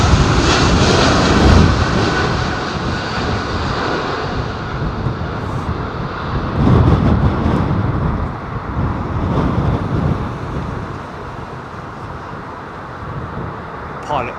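An airliner climbs out in strong wind at London Heathrow. A loud, continuous jet roar rises and falls slightly, with gusty wind buffeting the microphone throughout.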